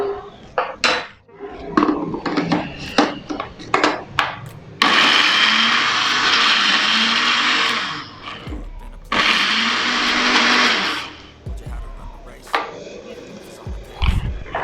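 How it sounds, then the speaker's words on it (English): A kitchen blender whirring through hot peppers for bitter leaf soup, two loud steady bursts of several seconds each with a short break between, preceded by clattering of a lid and utensils being handled. "I'm going to transfer it into the same blender"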